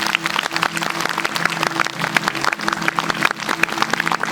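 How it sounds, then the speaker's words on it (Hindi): A church congregation claps loudly and continuously, dense overlapping applause from a crowd filling a hall for several seconds without a break. "जोर से ताली बजाएंगे यीशु मसीह के लिए"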